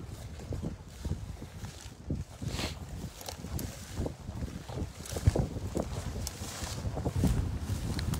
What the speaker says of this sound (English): So it's getting pretty windy here.